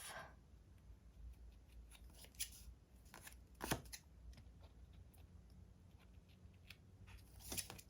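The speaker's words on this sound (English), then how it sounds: "I just go in with my scissors and kind of round it off" Scissors snip through paper scraps in a quiet indoor setting, giving a handful of faint, crisp cuts spaced irregularly, with a few slightly louder snips standing out against a hushed background.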